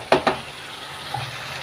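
Two quick scraping strokes of a utensil stirring carrots in a frying pan, followed by a soft steady sizzle of frying.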